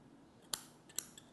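Two crisp snips of small scissors trimming the top of a cotton wick on a DotMobb-C rebuildable atomizer, followed by a fainter third cut, close and quiet with no talking.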